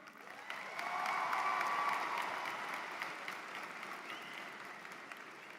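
A graduation crowd at Southern New Hampshire University applauds its president in a broad, steady wash of clapping that swells over the first two seconds and then slowly tapers off, sounding somewhat distant.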